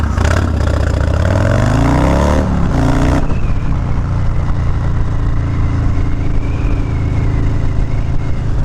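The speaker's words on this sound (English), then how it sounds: "This thing sounds good, not gonna lie. I don't mind the Bassani pipe." A loud, close hot rod engine fitted with a Bassani exhaust pipe revs up and falls back in the first few seconds, then settles into a steady, throaty idle that runs on to the end, with no talking over it.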